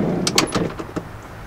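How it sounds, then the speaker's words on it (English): The rear sliding door of a Dodge Grand Caravan minivan opens close by with a quick series of clicks and clunks from the latch and rollers as it slides back, and no one speaks over it. "pull this door handle and it does slide back"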